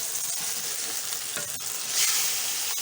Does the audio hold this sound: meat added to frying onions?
yes